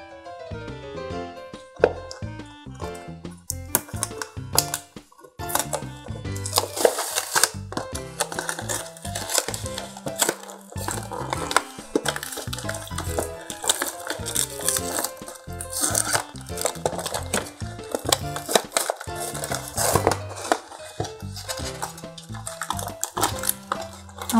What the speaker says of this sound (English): it's time for us to go ahead and start taking everything out of the box